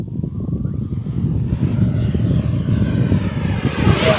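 FMS Super Scout radio-controlled propeller plane flying on a windy day, its electric motor whine rising and falling as it passes, moderately close with steady buzzing drone.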